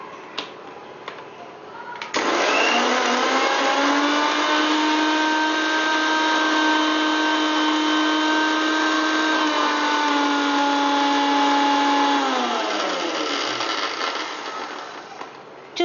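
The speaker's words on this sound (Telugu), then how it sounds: "తగినంత ఉప్పు వేసి మిక్సీ పట్టుకోవాలి" A kitchen mixer grinder whirs at full speed, grinding fenugreek, coriander seeds, green chillies, garlic, cumin and salt for tomato chutney; a loud, steady motor whine runs for about ten seconds, then winds down, with a little handling noise before it starts.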